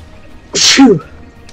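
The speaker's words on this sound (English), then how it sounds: "Sneezing like crazy." A single sharp sneeze, close and loud, a quick breathy burst that ends in a voiced tail, against a quiet background.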